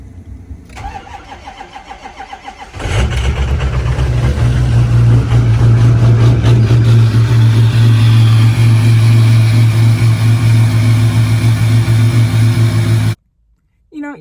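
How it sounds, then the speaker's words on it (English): A truck's engine cold-starting on a freezing day: a brief crank near three seconds catches into a loud, steady, low rumbling idle that runs close and unbroken for about ten seconds, then cuts off sharply. "cold start."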